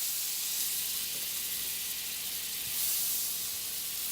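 Butter sizzling in a pan of chopped onions, a steady soft hiss and crackle that holds fairly quiet and even throughout, with a slight swell near the end and no voices.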